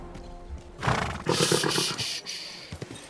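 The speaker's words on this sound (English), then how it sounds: "Easy, good horse." A horse in the video game Kingdom Come: Deliverance II lets out a loud, shrill whinny that rises and shudders for about a second, followed by a few soft thumps and rustling.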